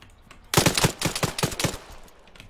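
Gunfire in ARMA 3: a sudden burst of about eight rapid automatic shots in a steady rhythm, loud and close, tailing off into quieter echoing reports.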